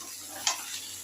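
Pointed gourd and potato pieces sizzle and fry in a pan, with a brief scrape or clink of stirring rising above a steady, close hiss.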